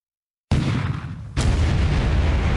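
Bombs explode in the naval war game War Plan Orange: a sudden deep boom, then a second blast, with a loud rumbling roar that carries on to the end.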